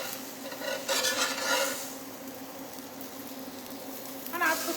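A Turkish smash wrap cooking in a pan, with soft sizzling and the scrape of a utensil moving it around, quiet and close with brief louder scrapes.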